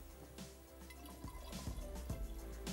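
About half a cup of water goes into a pan of cooking spice masala, heard as soft, quiet trickling and dripping with a few small splashes, and nobody talks.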